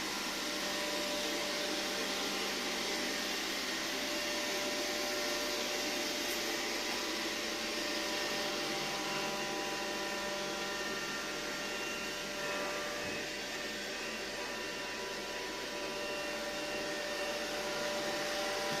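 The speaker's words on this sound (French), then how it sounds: "l'aspirateur, il va aspirer les poils parce que les clients, ils ont des animaux, donc il y a beaucoup de poils" A vacuum cleaner runs steadily while picking up pet hair during house cleaning, a continuous whining drone with a faint tonal hum, moderately near and alone without speech.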